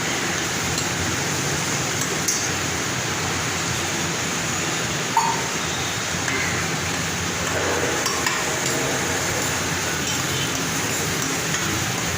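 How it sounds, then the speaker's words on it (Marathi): Green masala sautéing in oil in a pan for a Marathi kitchen recipe, a steady soft sizzle and hiss holding evenly throughout, with occasional faint clinks of stirring. "तो छान व्यवस्थित परतून घेणार आहे हे बघा एकदम तेल सुटेपर्यंत हा मसाला परतायचा आहे"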